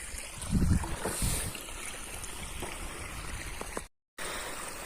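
Irrigation water runs steadily through a channel in a wheat field, a constant close rushing and trickling with a few louder splashes early on and a brief drop to silence near the end.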